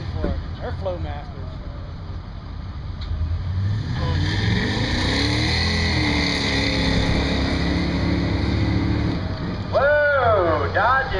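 A Dodge drag racing car with Flowmaster exhausts and 38-inch tires roars down the strip at Buck Motorsports Park, a loud sustained engine note rising in pitch, with brief squealing whines at the start and end.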